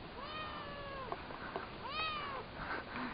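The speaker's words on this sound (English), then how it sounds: "We'll let you in, and 1 minute later you'll turn around and meow at the door." A house cat meows at home, several drawn-out, rising and falling cries with short pauses between them, fairly close and clear against quiet room ambience.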